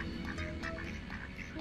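Several ducks with a duckling nearby give a run of short, nasal quacks at close range in Northumberland, repeated in quick irregular bursts over a soft outdoor background.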